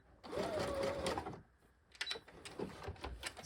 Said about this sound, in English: just a little back stitch, clipping my threads.